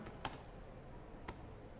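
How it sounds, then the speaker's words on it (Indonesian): A few soft keystrokes on a computer keyboard while text is typed into Microsoft PowerPoint 2010, two or three faint, separate clicks against a low, quiet background. "Sekarang kita akan mulai mengetik kembali seperti yang buku, pilihan profesi."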